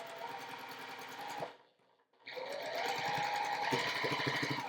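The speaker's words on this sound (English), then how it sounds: "when I start sewing at that line I marked, I back stitch to make sure it holds in place nicely" A sewing machine stitches a quilt seam on a star block, back stitching to lock it: a steady, close mechanical whir runs, stops briefly, then resumes with a continuous rapid hum.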